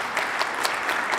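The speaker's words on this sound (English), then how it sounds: "Give her a big round of applause." Audience at a missional leadership lecture applauding a board member, a short burst of steady clapping with no voices over it.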